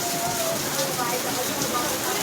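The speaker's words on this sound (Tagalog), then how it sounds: "Ayan, lakas ang ulan, no?" Heavy rain pours down at a market, a dense, steady hiss of drops hitting surfaces close by, with faint voices in the background.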